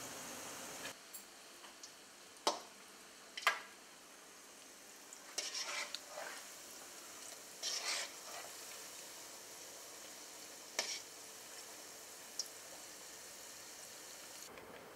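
Cassava pakora frying in oil over medium heat, a steady low sizzle broken by occasional sharp clicks and scrapes of stirring, close and fairly quiet with no voices.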